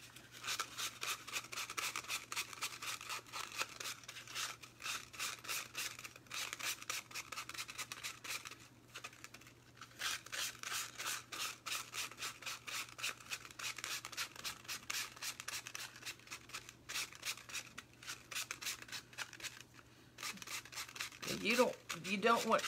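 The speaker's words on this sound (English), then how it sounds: "You don't want coarse grit on your sandpaper, because literally you can sand a hole right through this." Sandpaper rubbing over a wooden acorn blank with fine grit, a steady close scratchy rasp in long strokes that pause briefly now and then, with a low hum underneath.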